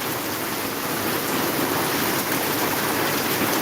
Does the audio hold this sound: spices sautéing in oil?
no